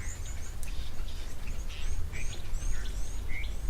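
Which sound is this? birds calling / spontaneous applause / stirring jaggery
birds calling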